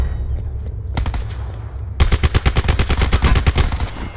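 Rapid automatic MX9 fire in the Call of Duty Blackout battle royale game, a short burst near one second followed by a loud, sustained string of evenly spaced shots over the last two seconds.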